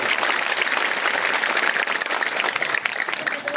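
Applause from an audience at a Buddhist religious gathering, dense and sustained clapping from many hands that stays loud and even for the whole stretch, with no voices on top.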